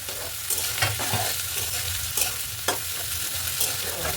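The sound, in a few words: carrots and beans frying in a pan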